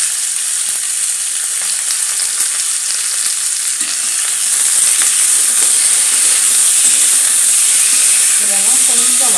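Ginger, green chillies and tomatoes fry in a pan with a steady, bright sizzle and hiss that stays loud and continuous, with brief stirring scrapes.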